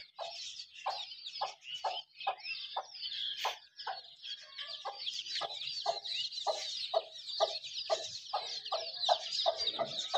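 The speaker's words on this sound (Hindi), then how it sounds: "ये जी हैं हमारे चूजे घूम रहे हैं" Chickens and chicks cluck in a steady, rapid series of short calls over a layer of higher peeping and chirping, close and fairly loud, with no talking.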